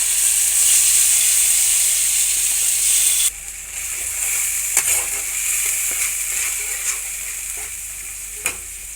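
Spice masala frying in hot oil for a doi potol curry: a loud, steady sizzle that drops slightly partway through, with occasional sharp clicks of stirring and no voices.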